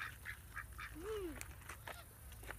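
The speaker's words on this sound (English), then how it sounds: "Go give the duck a french fry." A duck quacks once, near and fairly loud, at an outdoor spot where children hand it french fries. The single rising-and-falling call sits over steady background noise.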